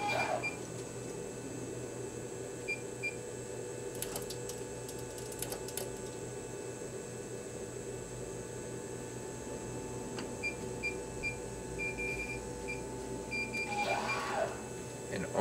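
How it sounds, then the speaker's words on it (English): A garment printer for dark tee-shirts, a C Series M2, loading up to its ready state gives a steady mechanical hum with soft intermittent beeps and a few brief clicks and clatters. "click into the machine, load it until it gets to the ready state"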